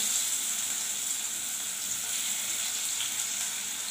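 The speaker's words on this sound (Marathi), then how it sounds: "तेलामध्ये मी कांदा टाकला" Chopped onion hitting hot oil in a pan for an egg curry, a loud, continuous hissing sizzle that stays even throughout, close up with no talking.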